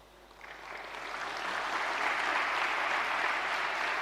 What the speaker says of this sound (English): I hear more clapping from this side than this side.